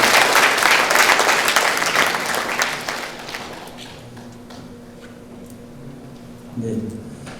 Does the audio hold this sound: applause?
yes